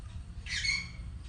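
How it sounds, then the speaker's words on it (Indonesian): A pet bird squawks in the background of a home kitchen, with a single harsh, mid-volume squawk lasting about half a second over low room noise. "ada suara burung suami aku berisik"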